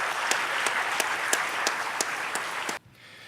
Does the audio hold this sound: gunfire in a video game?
no